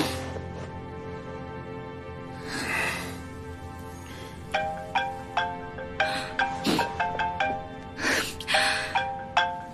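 A phone rings in the second half, sounding repeated short electronic tone bursts in a regular rhythm, after soft breathy vocal sounds early on.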